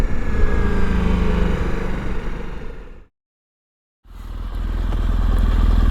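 A BMW GS motorcycle rumbles loudly and close while riding, its engine cutting out to a second of silence before the steady drone returns.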